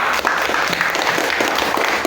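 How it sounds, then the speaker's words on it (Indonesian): Schoolchildren in a fourth-grade classroom clap together, a close, continuous patter of hands with some sharper individual claps standing out. "Tepuk tangan untuk semuanya"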